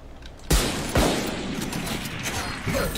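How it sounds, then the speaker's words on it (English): A swarm grenade in the video game Valorant sets off a burst of loud, dense crackling pops that begins sharply and keeps rattling for a few seconds. "Placing swarm grenade."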